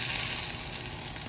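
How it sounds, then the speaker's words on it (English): Fat from a rotisserie chicken drips into a drip pan and sizzles in a soft, steady hiss, up close and continuous, with no one talking. "A little bit of sizzle dropping in the drip pan."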